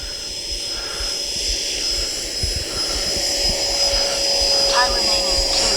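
A Freewing F-22 RC jet with an electric ducted fan spools up on thick grass, a steady loud whine and rushing roar that builds gradually, with a few brief faint voices in the background.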